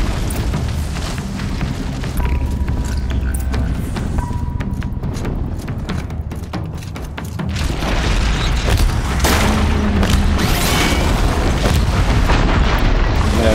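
Freeze bombs bursting against a Rock Breaker machine in the video game Horizon Zero Dawn, heavy booming blasts and rumbling impacts rolling on continuously, loud and dense, with no speech over them.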